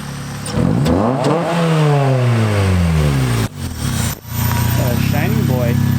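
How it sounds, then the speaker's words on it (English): A car arrives nearby with its engine revving loudly, rising through several sweeps and then dropping with brief pauses before revving again. "You can hear his car from a mile away."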